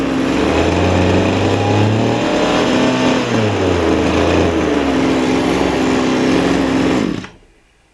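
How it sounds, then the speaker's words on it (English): A recovered two-stroke engine runs loud and close, its rough buzzing note rising and falling as it revs up twice, then cuts off abruptly near the end. "I'll raise the RPM now, and when I well, you'll hear it."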